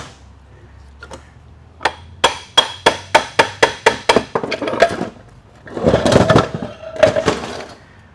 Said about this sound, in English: I like it when I can just tap on them and they come out.